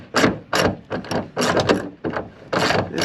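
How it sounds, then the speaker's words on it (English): A 13 mm hood nut on a Ford Mustang being loosened with a wrench, a series of loud, close ratcheting bursts separated by short pauses. "We're gonna remove this nut right here, and like I said, it's a 13. Just gonna go ahead and bust her loose."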